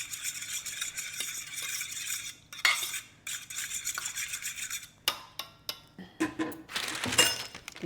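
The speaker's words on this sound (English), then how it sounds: "I'm going to whisk this up." A whisk beats ingredients in a bowl in quick clinking strokes, with pauses between bursts and a run of sharp metallic taps toward the end, close and moderately quiet with no speech.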